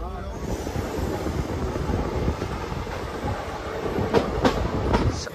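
A Teesta Torsha Express train rumbles steadily along the tracks arriving at Malda Town station, with a continuous low roar, wheels clattering and a few sharper metallic clicks near the end.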